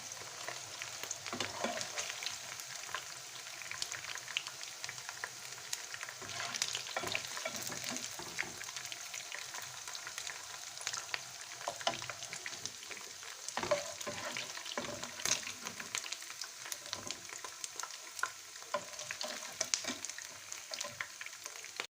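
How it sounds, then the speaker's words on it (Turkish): Albanian-style liver cubes fry in a pan with potatoes nearby, a steady dense crackling sizzle with scattered sharper pops throughout. "tamamen ciğer kızardı"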